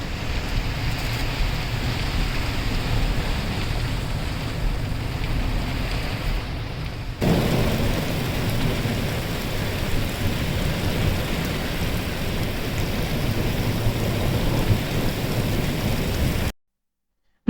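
Heavy rain pouring in the Masai Mara in Kenya during a thunderstorm, a dense continuous roar with deep rumbling thunder underneath and a brief shift in intensity partway, loud and steady with no talk.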